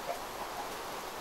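Steady soft hiss of rain in a video game, a faint even patter with no voices.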